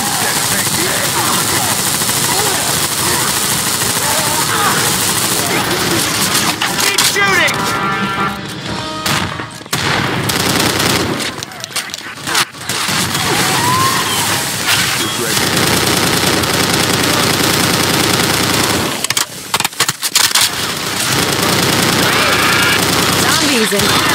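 Heavy gunfire from a big gun at zombies in Left 4 Dead 2, a Codename Cure custom campaign, with loud continuous automatic bursts, brief pauses and crashes, under players talking.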